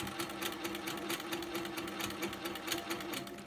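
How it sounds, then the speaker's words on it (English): A sewing machine stitches fabric for a basket weave background filler, running as a steady, close, continuous whir with a rapid mechanical patter and no talking. "I'm gently tensioning the fabric right now, and we're going to stitch down"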